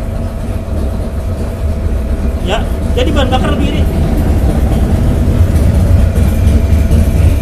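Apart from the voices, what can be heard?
Yamaha NMAX scooter engine running under load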